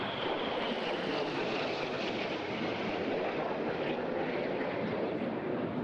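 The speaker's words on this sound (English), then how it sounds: "you can see the Synchro pair coming back in once again at 100 feet and over 800 miles closure" Synchro pair jet aircraft of an aerobatic display team passing low at about 100 feet during a seaside airshow, a loud continuous roar that swells and holds steady throughout, with no talk.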